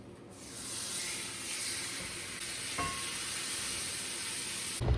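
Steak sears in a hot pan on medium-high heat with a steady, loud sizzle and hiss that carries on throughout, ending with a brief clatter.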